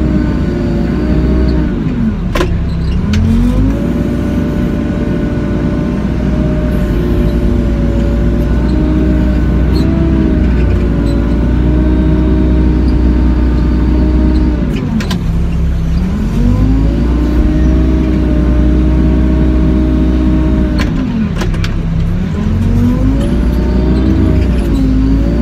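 A Doosan DX55 excavator engine runs while digging soil on a cramped house foundation, a loud steady diesel drone that dips and rises in pitch with each hydraulic load cycle, plus occasional sharp clanks.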